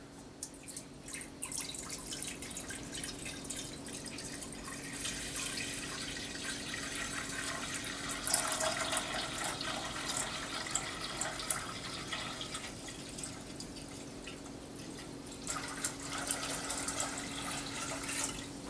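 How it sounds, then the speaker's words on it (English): Water pours steadily into a pitcher for most of the stretch, a continuous splashing rush that shifts in tone as it fills, with no talking. "Pour the water in here."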